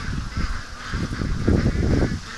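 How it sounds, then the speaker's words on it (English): Ducks on a lake yard, acting strangely, give a burst of loud overlapping honks and quacks close by, a restless rhythmic clamour of several birds rising in the middle and continuing to the end without talk. "Okay, the ducks are really acting strange here."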